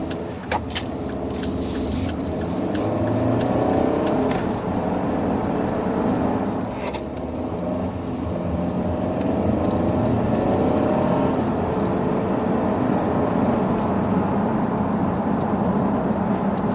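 A 2015 Volvo V60 T5 driving on a public road, heard from inside as a steady, continuous rumble of engine and tire noise that holds an even level throughout, with no talking.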